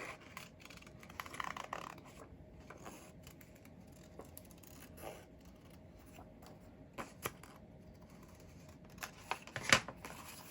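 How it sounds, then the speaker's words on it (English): Scissors cutting paper for a handmade Halloween journal page, with close, quiet snips and rustling scrapes scattered unevenly, and a sharper cut near the end. "I'm gonna cut this part out."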